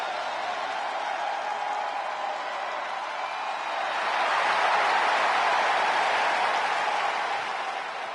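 Wrestling arena crowd in the video game WWE 2K25, a continuous wash of cheering and roaring that swells louder midway, then eases slightly, with no clear speech on top.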